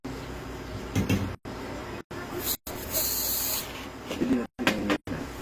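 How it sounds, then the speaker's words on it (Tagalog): Silicone spray fired onto a steel part, heard as several short hissing bursts separated by abrupt cuts, close and fairly loud, with a longer bright hiss in the middle. "Kailangan niya na silicone spray. So, bali, yung gagawin mo lang, sir. Sprayan mo lang."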